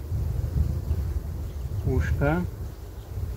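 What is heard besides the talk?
bees buzzing around queen cages on hive frame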